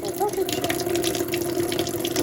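Water runs steadily from a newly installed washbasin tap, a continuous hiss and splash into the basin heard close up, with a voice speaking faintly over it.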